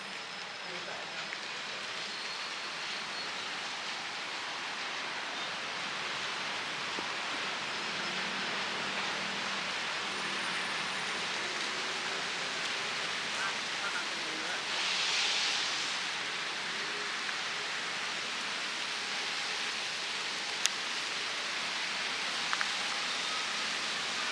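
Steady rain hissing continuously, a dense, even wash of drops that stays constant throughout with no pauses.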